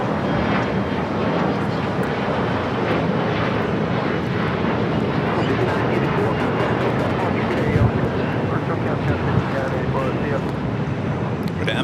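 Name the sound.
MSC Air Cargo plane taking off at LAX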